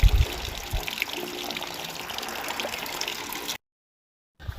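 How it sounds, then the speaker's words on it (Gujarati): Water runs through drip irrigation lines in a cotton field, a close continuous rushing and trickling hiss that cuts off abruptly near the end, then resumes briefly. "આપણે અત્યારે ડ્રીપમાં પાણી પાવાનું ચાલુ છે કપાસમાં"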